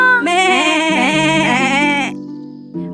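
A goat in a Hindi animated story gives one long, loud wavering bleat close up, then falls silent.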